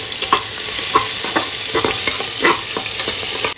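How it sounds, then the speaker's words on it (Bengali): Garlic with whole cumin, cinnamon, cloves and cardamom stir-fried in hot oil, a loud, close, steady sizzle broken by rhythmic spatula scrapes against the pan, with no voices. "তবে দেখো রসুনটা ভালো করে নেড়ে দেবো।"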